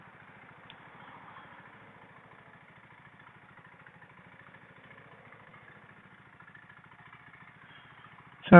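A BSA Scrambler motorcycle engine idles with a faint, steady low thumping pulse throughout, ending in a sudden loud knock.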